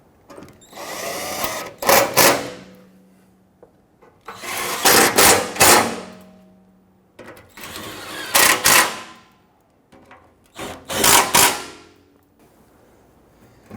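A power tool drives screws into the underside of a 2005-2021 Nissan Frontier during an oil change, four loud, separate bursts of whirring and rattling, each about two seconds long with quiet gaps between them, close by.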